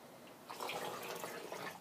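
Water is poured from a measuring cup into a bowl of egg mixture, a quiet trickling splash lasting over a second after a brief pause, with no talk.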